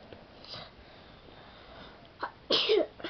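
A single sharp sneeze bursts out after a quiet stretch, preceded by a soft sniff; close and fairly loud, with no talking.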